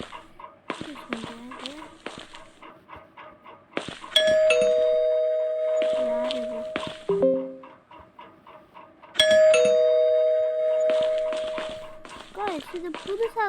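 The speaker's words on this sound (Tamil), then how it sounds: "காலிங் பெல் வேலை அடிக்கிறாங்களோ" An electronic doorbell chime rings twice, each a sustained melodic tone, amid a busy background of voices and animal-like sounds.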